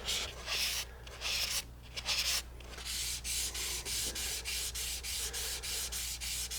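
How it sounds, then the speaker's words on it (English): A spindle-sander spindle wrapped in a squishy pad sands the natural finish on a guitar body with rhythmic back-and-forth strokes, close and steady, each pass a scratchy rasp, with no one talking. "I'll use these little spindles from my spindle sander, and I just take the same squishy pad because that's what we've been using."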